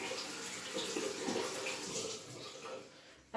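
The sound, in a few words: rinsing an egg under running water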